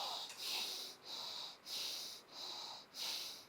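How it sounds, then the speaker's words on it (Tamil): Slow, deep breaths drawn in and pushed out about three times during a yoga breathing exercise, each a soft airy hiss rising and fading in a steady rhythm, close and alone without talk. "ஒரு 3 முறை மூச்சை உள்ளெழுத்து மூச்சை வெளியே விடுங்க."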